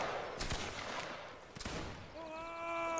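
Musket volleys in a Waterloo battle video game, two distant crackling bursts of massed fire followed by a held tonal sound, faint and rough.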